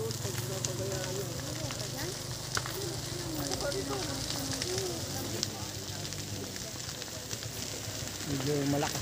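Grass fire burning steadily outdoors, a continuous crackling roar under people talking, with bird calls faintly in the background.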